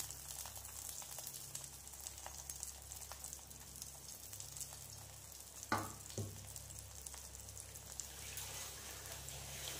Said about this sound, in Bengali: তেলটা যখন গরম হয়ে যাবে তখন এর মধ্যে দিয়ে দেবো হচ্ছে ডিমের ব্যাটারে চুবানো পরোটাগুলো